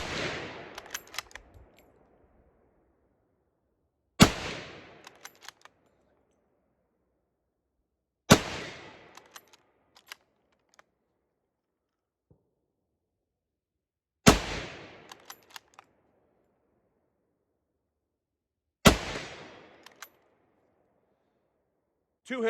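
An 8mm Mauser rifle fires five rounds freehand at a 12-inch steel target on an outdoor range: loud, sharp single reports spaced about four seconds apart, each trailing into a short decaying echo, with faint clicks between shots.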